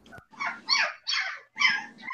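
A pit bull barks and whimpers up close in a loud series of four yelping bursts with brief gaps between them, and no voices join in.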